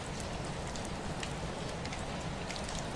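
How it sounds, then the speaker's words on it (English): Rain falling outside as an even, dense hiss of drops with faint scattered patters, steady and moderately quiet throughout, no voices. "Outside, the rain continues."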